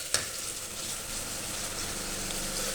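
Moong dal and ginger-garlic paste hit softened tomatoes in a hot pan, opening with a sharp tap and then a steady, close sizzle and frying hiss that lasts the whole stretch.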